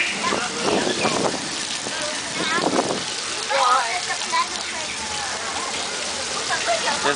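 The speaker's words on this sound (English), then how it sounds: "It's raining." Continuous artificial rain effect falls with a soft, even hiss at a Universal Studios Hollywood attraction, while voices talk over it at times.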